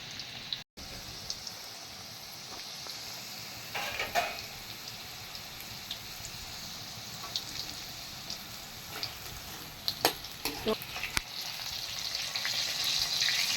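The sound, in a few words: ivy gourd 65 deep frying in oil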